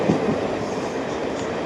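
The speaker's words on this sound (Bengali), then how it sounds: "ট্রেনটা ছেড়ে দিয়েছে" The Haldibari Intercity Express pulls away, a steady rumbling roar of the moving train heard from inside a coach, with continuous rail noise and no talk.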